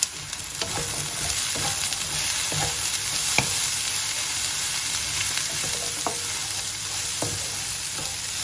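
Chopped white cabbage and carrots stir-fry with grated garlic for restaurant-style vegetable Manchurian, a loud continuous sizzle with regular clicks and scrapes of a utensil tossing the vegetables in the pan.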